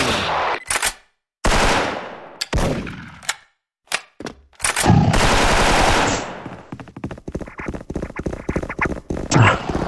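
Loud machine gun fire bursts in rapid, close volleys with short gaps between them, mixed with metallic clangs and some shouting.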